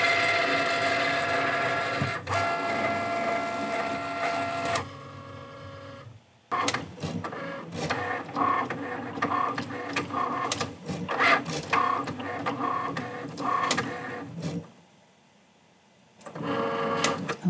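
A Cricut Maker cuts heat transfer vinyl letters with busy, whirring carriage movements and rapid clicking bursts, pausing briefly twice before resuming, close and clear with no talk.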